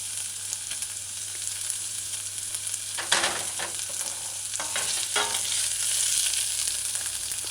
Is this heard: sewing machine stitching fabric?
no